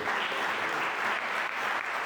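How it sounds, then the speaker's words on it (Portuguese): Church congregation clapping together in a continuous, even burst of applause for about two seconds, moderately distant. "E as palmas hoje aqui com nós."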